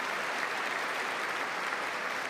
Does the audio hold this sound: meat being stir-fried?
no